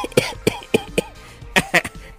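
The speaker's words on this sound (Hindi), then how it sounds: "लेकिन उसे खांसी उठ जाती है।" Someone coughs after smoking a hookah, several sharp, close coughs in two quick clusters with a brief pause between them.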